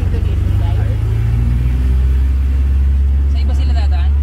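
Steady low engine rumble of cars on a road during a river-crossing relief trip in Sta. Ines, Tanay, close and continuous, with people chatting over it.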